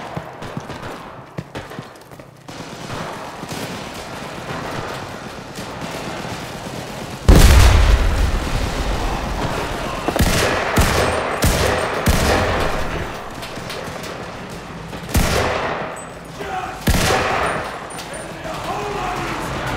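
Battlefield gunfire and explosions in the WWII shooter Enlisted: scattered shots, then a heavy blast followed by dense bursts of rifle and machine-gun fire and further booms, loud and close.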